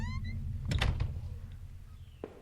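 A door opens in the horror game Home: a dull mechanical clunk and rattle of the latch, followed by a softer thud, over a steady low ambient hum with a faint tonal chime at the start.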